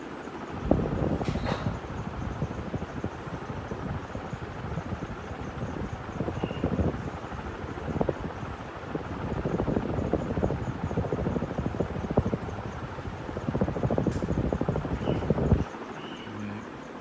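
KDK industrial ceiling fan, model B56YK, running noisily because it was never oiled: a continuous airy whooshing drone with irregular rattling knocks throughout, fairly faint, no talk.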